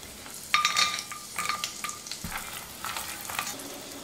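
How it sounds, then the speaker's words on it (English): Butter, cumin seeds, ginger, garlic cloves, green chilies and cashews roast in a pot with a bright, crackling sizzle, with a few metallic clinks and stirring scrapes over the frying. "I will add some butter and let it melt. Then add some jeera seeds, ginger garlic cloves, green chilies and some cashews and let it roast well"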